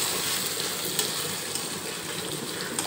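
Paneer pieces frying together in a hot pan, giving a steady, dense sizzle that stays close and even throughout with no talking.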